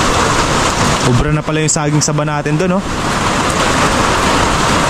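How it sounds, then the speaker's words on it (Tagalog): Heavy rain from Typhoon Carina pours down steadily over a flooded farm field, a loud dense hiss throughout, with someone speaking briefly over it. "Malakas pa rin ang ulan,"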